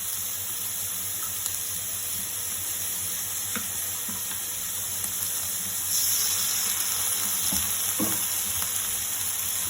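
Capsicum and other vegetables fry in a hot pan with a continuous, even hiss of sizzling oil, close and steady throughout, broken by a few soft scrapes and clinks of stirring, with no voices.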